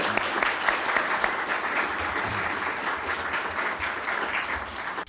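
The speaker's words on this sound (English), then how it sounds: "Please give Chairman Chu a round of applause" Audience applause for Chairman Chu at an event in Arkansas: steady, dense clapping from a sizable crowd that holds at an even level throughout with no talk over it.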